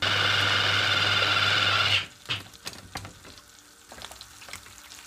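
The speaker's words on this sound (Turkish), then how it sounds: "Tereyağı eriyip tavayı temizlerken" Butter sizzles loudly in a pan in a steady hiss for about two seconds, then cuts off abruptly, leaving faint clinks and knocks of kitchen handling at lower volume.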